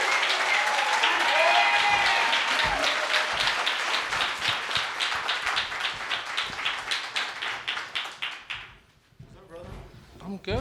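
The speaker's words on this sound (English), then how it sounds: "A big, huge excitement, round of applause, Jamal Hill." An audience at an evening event with filmmakers at The Prince breaks into dense, loud applause that gradually thins into scattered claps before fading, while some cheering and voices carry through near the start.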